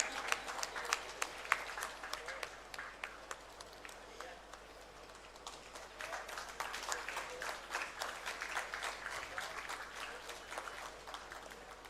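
Audience applause for prize winners at a medical conference awards ceremony, a steady crowd of many hands clapping continuously throughout, dense and sustained with no clear pause.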